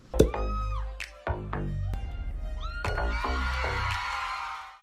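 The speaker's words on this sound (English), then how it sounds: "This is the scream that was in the studio." Shrill, wavering screams from a fan audience in a TV studio at a Jimmy Fallon taping with TWICE, played back as a recording: several loud, piercing bursts that rise and fall over a steady crowd din, with no talking.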